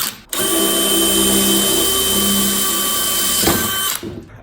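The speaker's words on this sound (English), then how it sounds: "So now we're just going to drill through." A power drill bores through a steel crossmember on a drift car, one steady loud whine lasting about four seconds before it stops, close up with no voices.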